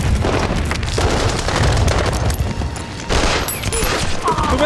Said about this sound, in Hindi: उन्होंने ग्रेनेड फेंक दिया।